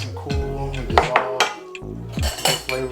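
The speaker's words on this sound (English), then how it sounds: "This one you definitely want to stir. You do not want to shake this drink." Ice clinks and rattles against a glass as an old fashioned cocktail is stirred, a series of close, bright knocks and jingles in uneven bursts, with no voice over it.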